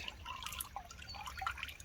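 Muddy brown water drips through a hiking water filter, scattered small, faint drips and trickles at an irregular pace in a quiet setting.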